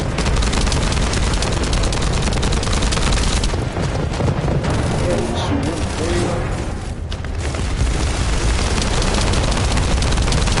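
Sustained gunfire crackles through a busy firefight in The First Descendant, with dense automatic bursts and booming blasts layered together, loud and continuous, briefly thinning midway before resuming, with a voice talking over parts of it.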